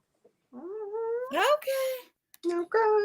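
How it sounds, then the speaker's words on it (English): A cat meows in a series of long, rising and wavering cries, two drawn-out calls followed by two shorter ones, loud and close, with brief pauses between. "Cat."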